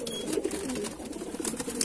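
Kalanka pigeons, a Madrasi tipler breed, coo softly in their coop, overlapping throaty murmurs rolling continuously at close range with no talk over them.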